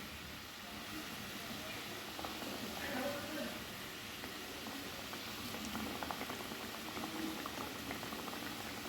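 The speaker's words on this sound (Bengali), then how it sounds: "এবারে ঝোল ফুটে গেছে, মাছগুলো দিয়ে দিচ্ছি।" A Bengali fish curry broth of small pond fish bubbles at a steady boil, giving a soft, continuous churning and popping that stays fairly quiet and even throughout.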